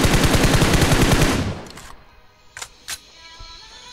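In PUBG Mobile, a rifle with a red dot and 3x scope fires at targets on a training range: a loud, rapid automatic burst of about a second and a half, then two separate single shots.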